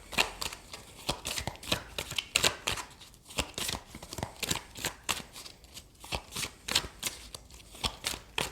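Tarot cards shuffled by hand in a steady run of crisp riffling and slapping bursts, close and moderately loud, continuing without speech.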